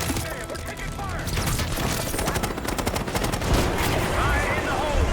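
Dense rapid gunfire crackles throughout a Call of Duty Black Ops 6 battle scene, with overlapping automatic bursts and impacts forming a loud, continuous barrage.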